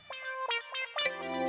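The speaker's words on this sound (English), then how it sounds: "more kind of like delay for the melody" A synth melody of short notes, each followed by delay-effect echoes that trail off, ending on a sustained chord.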